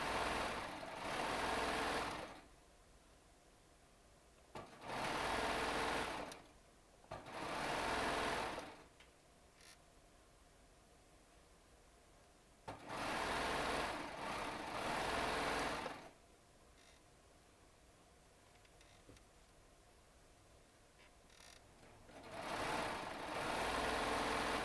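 Baby Lock serger stitching charm squares, running in four loud bursts of a few seconds each, separated by quiet pauses, close by with no talk.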